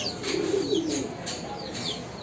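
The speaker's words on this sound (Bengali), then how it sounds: "আর এখানে আমাদের ঘুঘুগুলোও আছে" Doves cooing at a poultry farm kept alongside chickens, a soft low cooing phrase near the start, with faint bird chirps and background noise.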